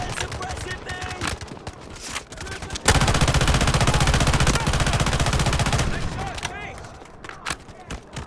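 Sustained suppressive gunfire in the mobile shooter Delta Force Mobile rattles loud and dense for a few seconds, framed by scattered single shots and game effects before and after.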